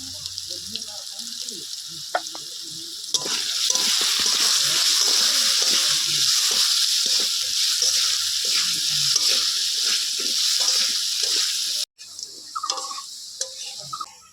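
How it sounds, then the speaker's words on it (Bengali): Potatoes frying in oil in a pan for a pangas fish curry, a loud continuous sizzle with scraping and stirring clatter, briefly interrupted near the end before resuming. "আলুগুলোও লাল করে ভেজে নিয়েছি এবার"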